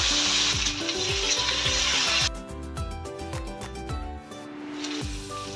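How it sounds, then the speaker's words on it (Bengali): Onion, tomato, green chilli, ginger and garlic hitting hot oil in a pan, a loud, dense sizzle that drops to a quieter crackle while a regular percussive music beat plays underneath. "আদা রসুন সব দিয়ে দেব।"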